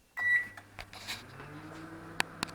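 A Kogan 28L stainless steel convection microwave oven sounds its buzzer, a loud close electronic beep followed by the hum and clicks of the appliance, with no talk.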